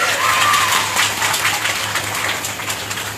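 Loud audience clapping at a village Ganesh Mahapuran gathering, a dense, sustained burst that stays fairly even throughout, with a steady low hum underneath.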